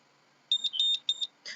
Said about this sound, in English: The three beeps show that this button has been provisioned.